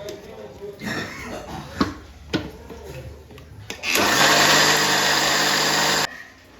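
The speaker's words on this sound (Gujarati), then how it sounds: "હવે એમાં આપણે 2 ચમચી દહીં નાખીશું. એમાં આદુ મરચાં લસણ પણ નાખી દઈશું એટલે બધું સાથે પીસાઈ જશે." An electric mixer grinder whirs loudly and steadily for about two seconds while grinding curd, ginger, chili and garlic for khatta dhokla batter, preceded by a few knocks and clatters as the jar is handled.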